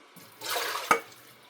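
Water pours into a pot of rice for cooking, a brief broadband splash of about half a second ending in a sharp clunk, heard alone with no speech.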